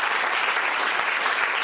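A church congregation breaks into loud, dense applause, a continuous clapping texture sustained without a pause.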